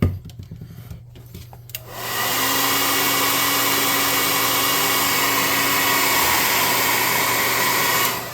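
A hair dryer drying a painted tabletop miniature switches on after a short stretch of quiet handling noise, then blows with a loud, steady, close whooshing whine that runs unbroken until it cuts off at the very end.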